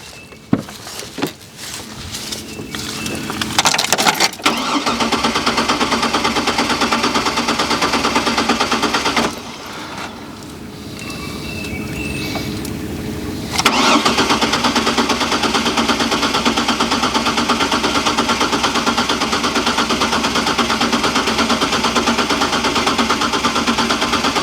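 A Chevrolet Trailblazer engine, from a project truck, is cranked with the key and catches into a loud, rough, rapid chugging run. It briefly drops out, then fires up again and keeps running close by, with no talking.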